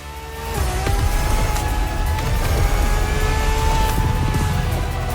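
A Ferrari LaFerrari hybrid supercar in The Crew Motorfest revs up and drives hard, its engine rising to a loud, sustained high-pitched roar with shifting pitch and faint tire noise.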